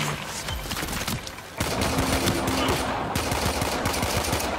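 Gunfire in the video game Warframe: dense, rapid bursts of automatic shots rattle continuously, with a brief dip before a louder, sustained volley.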